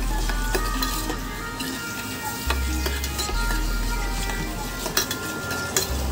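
Egg mixture whisked with mustard oil in a bowl for Bengali dim bhapa, a steady busy clatter of utensil against dish with scraping and occasional sharp clinks, close and continuous with no talk.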